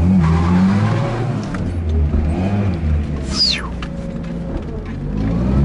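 A car reversing and drifting on a wet road produces a steady engine rumble with shifting revs and a rising, wavering tire squeal partway through, loud and close.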